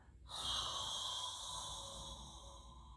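A long, deep exhale during a hot yoga class starts suddenly and streams out as a steady breathy rush close to the listener, slowly tapering over about three seconds.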